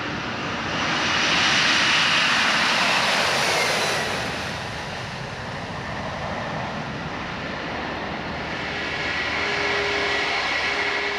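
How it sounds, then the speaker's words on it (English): An American Airlines Boeing 767 jet roars on its takeoff run for London: a loud, steady, broadband engine rumble swells early, eases a little, then builds again. "At last, it's the turn of an American Airlines Boeing 767 departure for London"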